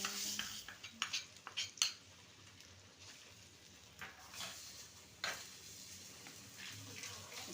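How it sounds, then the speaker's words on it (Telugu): Gongura chutney being stirred in a pan off the heat, with clustered spoon-on-metal clinks and scrapes early on, then quieter intermittent stirring over a faint sizzle. "ఇప్పుడు మనం దీన్ని బాగా కలుపుతున్నామండి."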